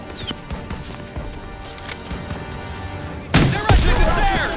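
Battlefield gunfire in the video game Call of Duty WW2, with rifle shots and cracks over a busy combat backdrop, and a louder burst of heavy firing and explosions near the end.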